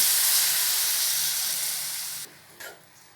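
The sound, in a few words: water added to hot pan, hissing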